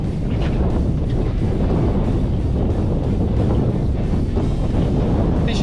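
Wind blowing hard on the windy side of a dam, a loud, constant roaring buffet across the microphone with low rumble, continuous throughout with no voices.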